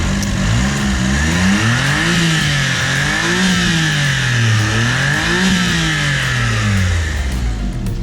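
An all-wheel-drive minivan engine revs repeatedly up and down, loud and close, the pitch rising and falling in steady waves with no talking.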